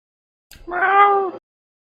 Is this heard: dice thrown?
no